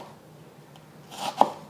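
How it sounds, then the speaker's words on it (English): A kitchen knife slices an onion top to bottom, giving one soft, close crunch of the blade through the layers and onto the board after a quiet pause. "I'm going to slice from top to bottom"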